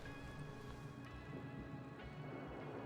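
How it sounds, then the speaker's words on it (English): Steady rain pours through a raging storm outside a remote base at night, a dense continuous hiss with faint low rumbling underneath and no voices. "The storm's raging."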